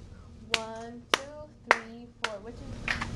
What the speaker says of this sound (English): So that one, you clap like this.